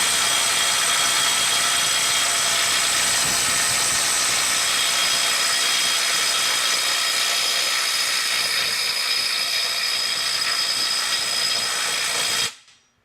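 A Makita 18V brushless right angle impact wrench runs at full power in its highest mode, producing a loud, continuous high-pitched whine that holds steady for about twelve seconds before cutting off abruptly.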